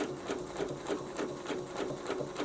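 A sewing machine stitches slowly along a Westalee ruler-work template for quilted snowflakes, its needle pounding in a steady, even rhythm of about four strokes per second, close and alone.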